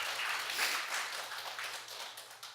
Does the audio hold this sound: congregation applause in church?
yes